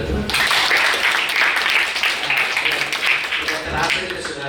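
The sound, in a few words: audience applause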